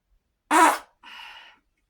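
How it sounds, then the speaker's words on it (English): Two short fart noises close to the listener: a loud, sharp burst followed a moment later by a softer, reedy squeak, with silence around them. "We also fart around here a little bit."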